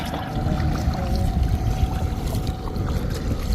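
Water is bailed out of a rain-filled fishing boat with dense low sloshing and churning, close and continuous over a faint steady background, with no voices.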